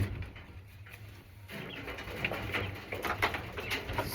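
Quail calling with soft cooing chirps while being handled and vent sexed, several faint, close calls over a low rustling background.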